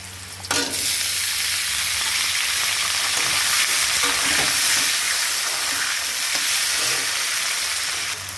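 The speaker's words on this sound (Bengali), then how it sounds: "মাছের মাথা দিয়ে দিলাম" Fried fish head dropped into a pan of hot oil while cooking Malabar spinach, a sudden onset followed by a loud, continuous broad sizzle with faint utensil knocks, close and steady.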